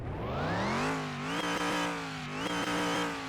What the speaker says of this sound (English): that supercharger whine at the top end is absolutely beautiful